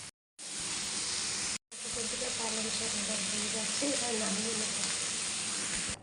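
Spinach with peas, tomato, eggplant and potato frying in a pan, giving a steady, close sizzling hiss that runs almost continuously apart from two brief cut-outs near the start.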